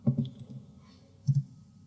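Commands typed on a computer keyboard during a live OpenFlow and IPv6 networking demo: a few quick clustered key clicks near the start, a short double burst later, close and fairly quiet with no talk.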